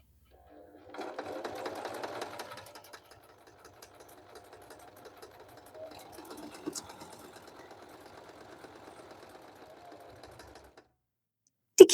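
A Singer M3335 home sewing machine runs a straight stitch, its quiet, fast mechanical whirr coming in a short burst and then a longer, steadier run before stopping.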